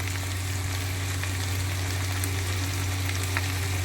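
Baby corn and paneer pulao rice stirred in a hot pan, steady sizzling and frying with faint scraping of the spoon, constant and close with no talking.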